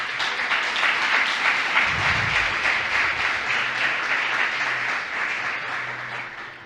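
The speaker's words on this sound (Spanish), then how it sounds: "Bríndale un aplauso a Él." Church congregation applauding during a sermon, a steady, moderately loud stretch of many hands clapping that gradually fades toward the end, with no voices over it.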